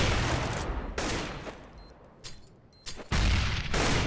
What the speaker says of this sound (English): Just here as Nexus caught in a crossfire.